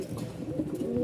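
Pigeons sold at a pigeon market in Mirpur-1, Dhaka, give soft, low, throaty coos close by in a brief run of overlapping calls.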